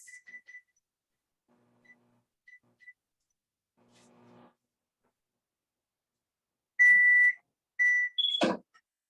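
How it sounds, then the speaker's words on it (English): A microwave oven beeps, close and clear: a short burst of tones near the end after a mostly quiet stretch with faint faraway beeps and small kitchen sounds. "I think I heard it beep, right?"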